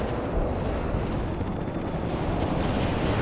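Continuous rumbling barrage of artillery and napalm explosions in the World in Conflict strategy game, dense and loud with no clear breaks, a broad roaring wash of blasts across the whole stretch.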